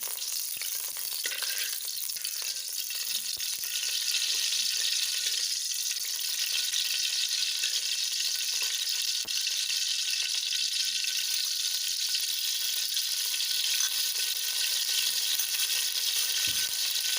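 Ghee sizzling steadily in a pan over medium heat while making coconut laddoos, a continuous bright hiss with faint clinks, no talking.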